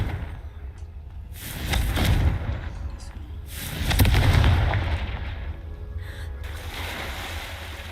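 In Hogwarts Legacy, the Confringo fire blast spell bursts twice as deep, booming whooshes with crackling, fiery tails, each swelling and fading over a second or so against a low ambient rumble.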